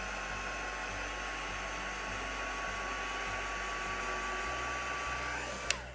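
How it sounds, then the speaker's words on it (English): A heat gun blows steadily for several seconds, drying shimmer dust on a stamped card scene, with a sustained whooshing hum that cuts off sharply near the end. "let's just give it a quick dry with the heat gun"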